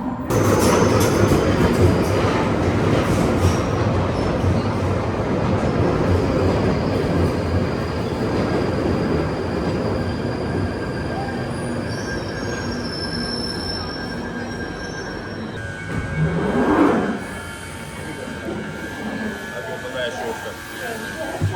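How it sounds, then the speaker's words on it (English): A London Underground train arrives at a station, rumbling steadily along the rails with wheels screeching high and metallic, a loud squeal swelling near the end, while people talk nearby. "there's a train coming"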